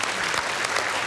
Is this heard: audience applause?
yes